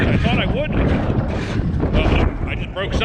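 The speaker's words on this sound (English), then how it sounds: "this wind is just relentless out here" Strong gusting wind outdoors at a skate park roars in a loud, continuous rumble across the microphone, with a voice and faint whining mechanical sounds breaking through.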